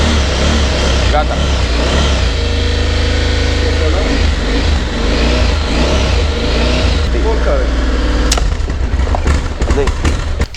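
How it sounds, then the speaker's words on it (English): A scooter engine starts, runs and revs unevenly close by, popping and sputtering, while people talk over it throughout. "So the engine has started, the scooter has started"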